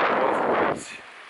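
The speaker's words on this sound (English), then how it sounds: "It's freaking windy." Strong wind at Pensacola Beach, Florida, buffets the microphone in a loud, rough rush that drops off abruptly to a softer whoosh.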